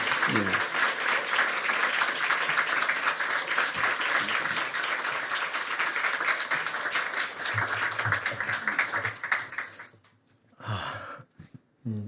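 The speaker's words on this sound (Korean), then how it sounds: "나오실 때까지 박수해 주십시오." A church congregation at a Sunday service claps steadily as a pastor comes forward, a loud, dense round of applause that fades out near the end and gives way to a few nearby voices.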